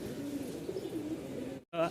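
Pigeons at a pigeon market coo softly and continuously in a low, rolling murmur, with a brief silence near the end before the cooing resumes.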